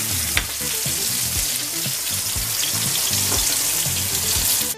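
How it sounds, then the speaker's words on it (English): Vegan shark seasoned with salt and pepper sizzles loudly and steadily in a frying pan, close up, with occasional scraping and stirring knocks and no speech. "Listen to that gorgeous sizzle."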